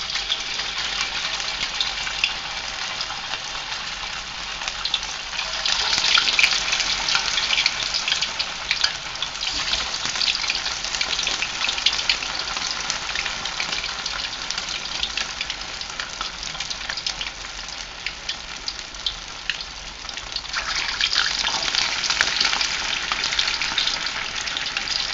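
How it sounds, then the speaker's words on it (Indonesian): Pempek dos, Palembang fishcakes, frying in hot oil in a pan, a continuous close sizzle and bubbling that swells and eases over time with no talking. "Sekarang mau kita goreng pempek dosnya."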